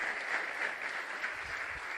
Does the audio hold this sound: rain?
no